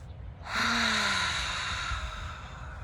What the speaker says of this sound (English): Take a nice deep inhale with me,